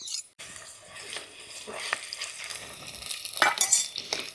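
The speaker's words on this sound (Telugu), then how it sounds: "ఇది కూడాను చక్కగా పచ్చివాసన పోయే వరకు వేయించుకుందామండి" Ground masala paste sizzles in a pan over sautéed onions for a Telugu broiler chicken curry, a steady fry with scraping stirs from a utensil, close by and without talk.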